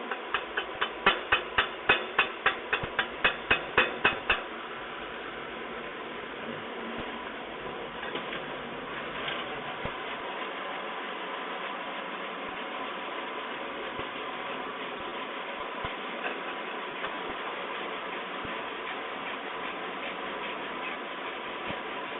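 A wire brush scrubs an E6010 weld bead on an X weldment: a burst of rapid, rhythmic strokes at the start, then a steadier scratchy rasp with occasional clicks, close up and without voices.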